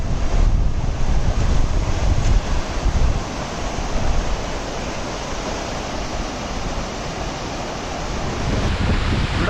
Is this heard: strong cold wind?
yes